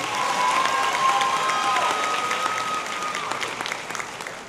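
Dense, steady applause from a large audience at a high school graduation ceremony, loud and sustained throughout before easing slightly toward the end, with faint voices mixed into the crowd.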